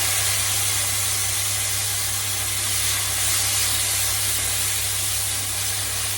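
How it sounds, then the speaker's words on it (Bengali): Chopped ginger and papaya hitting hot oil in a pan, a loud, constant close sizzle and hiss with a low steady hum underneath and no talking. "একটুখানি কুচিয়ে রাখা আদা রেখেছি, এটা দিয়ে দিলাম তেলে, দিয়ে সঙ্গে সঙ্গে পেঁপেগুলো ছেড়ে দিলাম।"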